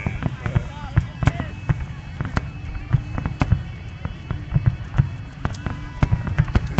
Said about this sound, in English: There's an explosion going on in the sky.